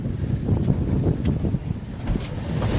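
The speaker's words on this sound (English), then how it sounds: "Wind waves are starting to kick up, means it's blowing pretty extensive out there past the islands." Strong wind buffets the microphone aboard an O'Day 272 sailboat beating upwind on the Pacific, a loud, continuous low roar with gusty surges and a faint wash of water beneath.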